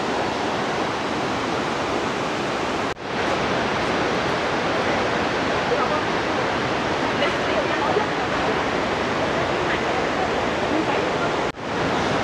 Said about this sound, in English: The tunnel walk provides spectacular views of the Coquihalla Canyon and the Coquihalla River running through it.